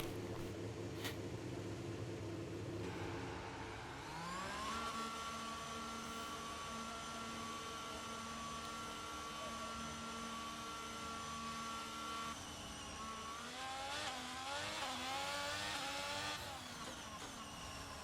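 Race car engine in a racing sim, a steady mechanical drone that rises in pitch around five seconds as the car pulls away, holds a high whine, then shifts and revs unevenly near the end.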